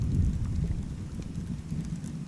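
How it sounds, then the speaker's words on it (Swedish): Rain falls outdoors at a rocky fishing spot, a soft continuous patter mixed with low wind rumble, steady and fairly close with no talking. "Börjar regna lite."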